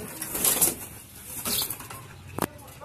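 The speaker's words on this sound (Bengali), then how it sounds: "এই দুটো পাঞ্জাব মালবাই পায়রা, পাঞ্জাব মালবাই পায়রা" Punjab Malbai pigeons make soft sounds at close range, with a few brief flutters and a sharp flap, over a faint background.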